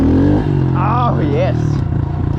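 A Honda CRF110 dirt bike revs hard in first gear during wheelie practice, its engine note loud and close and rising and falling, with a brief voice speaking over it.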